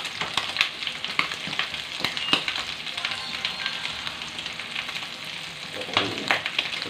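Hot cooking oil sizzles in a pan while sautéing for pakbet, a steady crackling hiss sprinkled with sharper pops and spatters, moderately close, with no voices.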